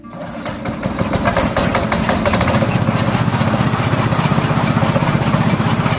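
A pull-started petrol engine on a fodder cutter catches within the first second and settles into a loud, close, rapid rhythmic chugging that runs steadily to the end.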